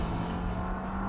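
A car drives along a road with a steady engine hum and a strong low tone, sounding close and constant throughout the short moment with no talking.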